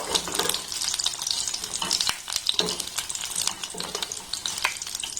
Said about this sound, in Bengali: গ্যাসের ফ্লেমটাকে একদম লো রেখে পনিরটাকে একটু লাল লাল করে ভেজে নেব